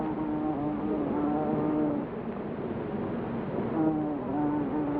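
A bumblebee buzzes steadily close by, its wavering drone rising and falling in pitch over several seconds with no voices.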